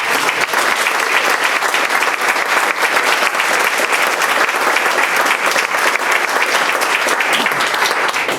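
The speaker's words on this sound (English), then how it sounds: "can we just give a round of applause for Monson?" A large audience at a book talk applauds steadily, a dense, even wash of clapping that holds at full strength throughout without any voices standing out.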